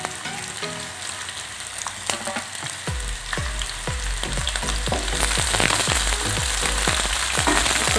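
Chopped onion sizzles and fries in a hot pan with cumin seeds and browned garlic, a steady crackling hiss growing louder and denser as it goes, with stirring clatters punctuating it at irregular intervals and no talk.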